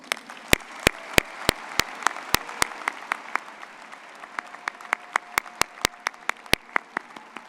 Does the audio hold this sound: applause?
yes